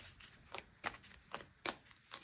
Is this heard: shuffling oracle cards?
yes